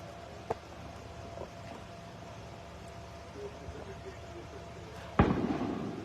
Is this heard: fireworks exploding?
yes